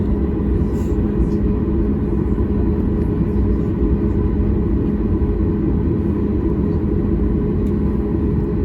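Steady loud cabin roar of a Turkish Airlines jet in flight at night between Ankara and Astana, a continuous broadband engine and airflow drone with no talk.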